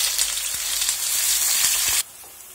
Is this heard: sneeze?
no